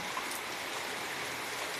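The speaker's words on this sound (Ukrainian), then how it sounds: "просто така злива чи що вона" A heavy downpour falls on a vegetable garden without thunder, a steady dense hiss of rain close by with no voices.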